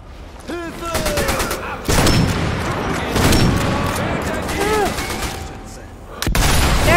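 Sustained bursts of video game gunfire in Sniper Elite V2 Remastered, with rapid automatic fire and single shots. Echoing booms break through in heavy waves, along with whistling ricochet sounds.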